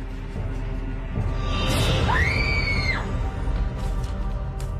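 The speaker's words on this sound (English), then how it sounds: "Sound like somebody screaming." From a horror film, a single distant scream rises and holds for about a second over a low rumbling outdoor background, faint and far off, with no one speaking.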